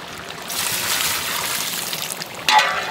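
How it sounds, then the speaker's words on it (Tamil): Water pours into a cooking pot with a steady trickling, splashing wash, getting a bit louder toward the end. "தண்ணி"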